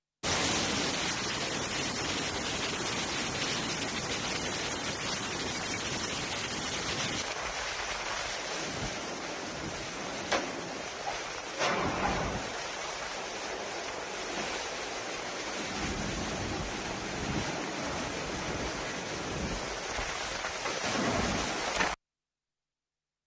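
Heavy rain pours down in Mumbai during flooding, a dense, loud, unbroken roar of broadband noise lasting about twenty-two seconds before cutting off.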